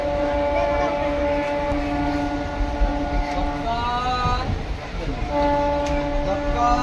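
A passenger train bound for Puri rumbles steadily up close, with a loud continuous roar of wheels and carriages and a sustained horn-like tone, while voices talk over the noise.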